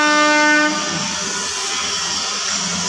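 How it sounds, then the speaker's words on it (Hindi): A train pulls into a railway station with a loud, sustained horn blast at the start, then a steady rumble of railcars rolling past, with no talk. "ट्रेन आ रही है।"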